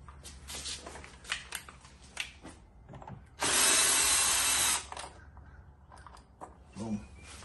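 A power drill removes screws from a Hyundai Ioniq 5 door panel, whirring steadily for about a second and a half, loud and close, between quieter clicks and handling noises.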